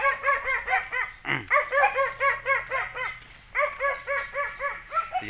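A dog barks over and over in quick, even bursts, loud and close, with short yips and a brief whine in between, and no talking.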